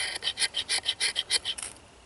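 A knife scrapes fine curls from a piece of wood to make fire-starting tinder, with about nine quick, even rasping strokes in a steady rhythm, close and clear, then trailing off.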